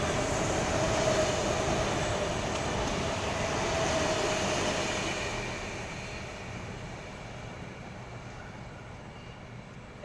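A Sydney suburban train, four-car set with car S99 leading, rumbles close by with a broad steady roar that slowly fades over several seconds.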